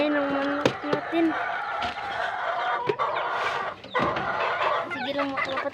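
Chickens clucking and a rooster crowing at close range on a farm, with overlapping calls and bursts of cackling filling the scene continuously.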